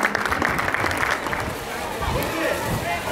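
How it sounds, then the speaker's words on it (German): Crowd applauding the winning team at a U10 youth ice hockey tournament, steady clapping and cheering in an arena with voices talking over it. "noch einmal einen kräftigen Applaus für dieses Team"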